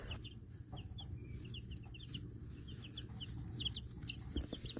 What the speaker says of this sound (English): These are the new babies under the mother hen.